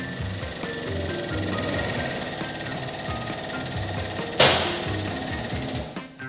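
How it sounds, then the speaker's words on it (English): A Rotary LT35A lift table rises to full height, its hydraulic power unit running in a steady, close mechanical drone with a sharp clunk partway through before the motor cuts off; there is no speech. "Next, raise the lift table to full rise."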